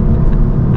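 A Volkswagen Golf R MK7 accelerates hard from first into second gear, a loud, close, continuous engine roar with a deep rumble heard from inside the car.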